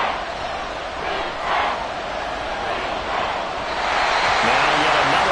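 A dense stadium crowd roars steadily through a simulated football game, swelling loudly between plays, with a commentator talking over it.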